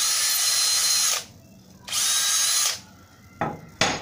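A power drill bores two holes in quick succession, each burst of high whine running about a second with a pause between, followed by a couple of short sharp clicks at the end; no speech.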